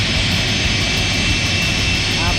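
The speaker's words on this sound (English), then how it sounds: "It's going to come and taxi in now and hopefully park up right in front of us here at the BA maintenance hangar here at Heathrow." A British Airways Boeing 747-400 in retro livery taxis at Heathrow toward the maintenance hangar, its jet engines making a loud, steady roaring whine that fills the whole stretch.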